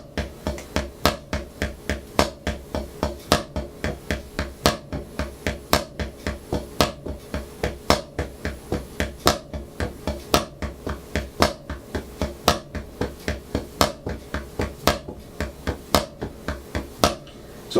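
Drumsticks play a steady stream of evenly spaced strokes on a drum in a paradiddle pattern, with the louder accent hits moving from one beat to the next, close and with no talking.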